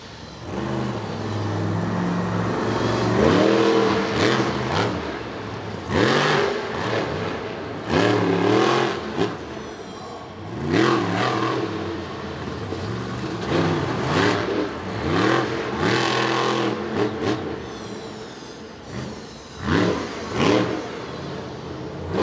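Monster truck with a broken rear sway bar at Bristol Motor Speedway during a freestyle run: a loud, close engine revs hard again and again, rising and falling in repeated roaring surges over crowd noise.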